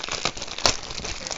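A plastic bag holding a diamond art kit crinkles and crackles as it is opened, a close, continuous rustle with one sharper crinkle partway through.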